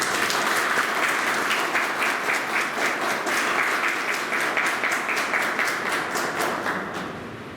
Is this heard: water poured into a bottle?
no